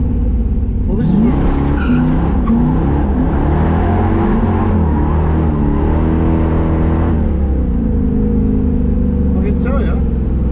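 An LS-powered 1949 single spinner car drives with its engine roaring loudly throughout, tires squealing and skidding as it revs and accelerates, with people talking over the noise.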